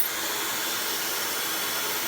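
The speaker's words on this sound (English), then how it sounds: "I'm just gonna finish blow drying this mold out so I can bump my hair" A Dyson Supersonic hair dryer blows steadily at close range, a constant broadband airy whoosh with no talking over it.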